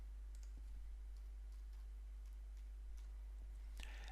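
Faint, sparse mouse clicks, a few light taps spread over a few seconds, while a folder is created in the Joomla 3 media manager, with a steady low hum from a quiet computer setup and no speech.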